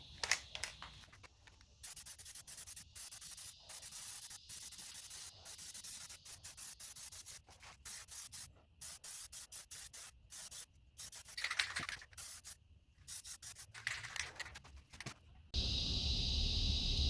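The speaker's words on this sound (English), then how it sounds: "So let me go ahead and spray the fifth coat now." A spray can of Plasti Dip rubber coating hisses onto a 17-inch Jeep Wrangler wheel in repeated bursts of varying length with short pauses between, close and fairly loud.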